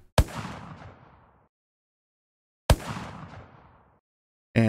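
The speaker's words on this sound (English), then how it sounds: "And so you're going to hear that medium gunshot. You're also going to hear that far away gunshot underneath it." Unreal Engine game gunshots in a Fortnite-style system: two loud, sharp medium-distance shots about two and a half seconds apart, each with a long decaying tail, with a farther, duller gunshot layered underneath and a third shot starting at the end.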